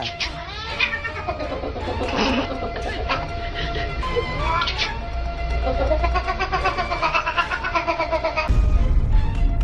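A cat held in someone's arms meows and caterwauls repeatedly, with close, loud, drawn-out cries over a busy background.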